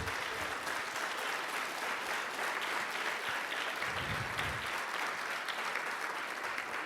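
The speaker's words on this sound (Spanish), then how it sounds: "Dale un aplauso fuerte al Señor." A congregation at a church service gives the Lord loud, sustained applause, with dense clapping carrying steadily throughout and brief low murmurs from the crowd.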